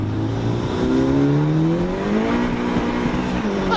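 A car accelerates hard, its engine note climbing steadily in pitch through two quick upshifts, loud and close with a continuous powerful roar and no talking.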